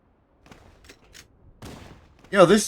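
Rapid burst of gunfire from the mounted gun on a Warthog vehicle in Cursed Halo, loud and dense at the end of the clip after a few faint scattered sounds.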